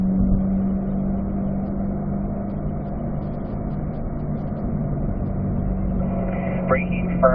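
A car's engine drones steadily under throttle on a race track, rolling through a turn and back up into fourth gear, with a continuous low hum that stays level throughout, a few faint squeaks near the end.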